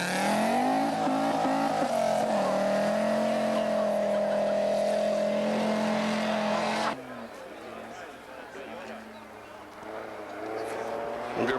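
An Audi Quattro rally car at the 1989 Rally of the Tall Pines roars past at high revs, a loud sustained engine note sweeping in pitch before cutting abruptly to a lower, rougher rumble as it moves away.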